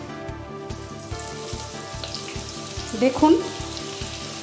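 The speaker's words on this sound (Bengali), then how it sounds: "পেঁয়াজ গোল্ডেন ব্রাউন করে ফ্রাই করে নেব মিডিয়াম ফ্লেমে" Finely chopped onions, about 400 grams, frying in oil over medium flame with cumin seeds, a steady sizzle under a low rhythmic hum and a brief burst of bubbling; a voice speaks a single word.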